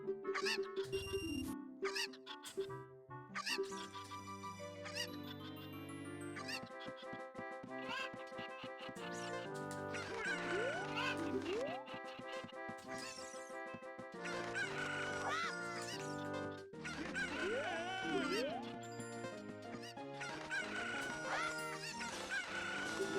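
Chickens in Ocarina of Time cluck and crow in bursts, layered over a steady melodic game music track and sound effects throughout.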